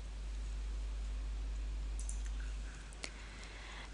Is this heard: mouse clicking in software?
yes